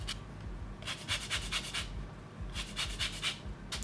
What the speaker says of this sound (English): We'll start with grating one orange.